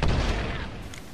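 A grenade goes off in a video game, a single loud low boom at the start that rolls off and decays over about a second, with a faint higher click near the end.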